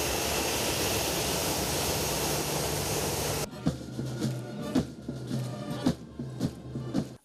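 A Nigerian Air Force presidential plane taxis at an international airport, a loud steady jet engine roar that drops abruptly to a quieter rumble with intermittent thuds and clatter.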